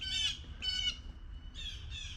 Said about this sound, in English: Be quiet, birds.